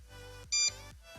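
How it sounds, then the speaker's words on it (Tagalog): A cheap pure sine wave inverter gives one short, loud electronic beep as it powers up, set between a steady low hum that briefly cuts out around it. "Bale una, magre-red muna, tapos magbi-beep siya."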